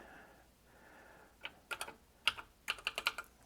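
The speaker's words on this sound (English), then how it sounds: "Oh, I love the sound of that keyboard." Keys clack on a 1978 Exidy Sorcerer 8-bit computer keyboard, starting with a faint hum, then a few isolated presses followed by quicker bursts of sharp, close typing.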